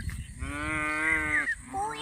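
A cow grazing in an open field lets out one long, fairly close moo, followed by a shorter second call.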